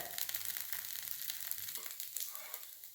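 Mysore dosa batter sizzles and crackles steadily on a hot pan, a close, continuous frying hiss with bright popping spatter throughout, no voices.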